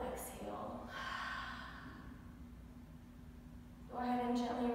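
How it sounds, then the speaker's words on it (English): A deep inhale and a long, full exhale during a prenatal morning yoga session, each heard as a soft, airy breath rising and falling over several seconds, close to the microphone, with a low hum underneath. "Big deep breath in. Big full exhale."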